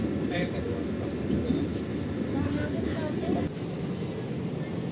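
KA Lodaya train pulling into Sidareja station, a moderate rolling rumble with faint wheel squeal and a thin high whine, while a voice can be heard talking under it.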